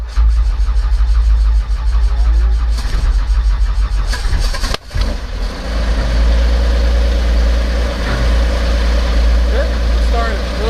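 Robinson R44 helicopter engine starting with slightly too much fuel, a loud cranking churn that catches and settles into a steady, deep idle rumble while people talk over it.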